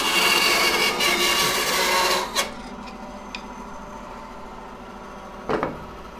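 A bandsaw cuts a split woodturning blank with a harsh, buzzing rasp of blade through wood for a couple of seconds, then stops, followed by a few faint knocks and a brief scrape.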